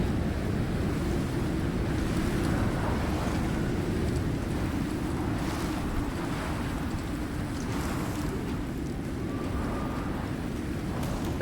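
Strong wind roars across the volcanic Prometheus map in the survival game Icarus, a deep, continuous, rumbling gust that stays loud and steady with only slight swells.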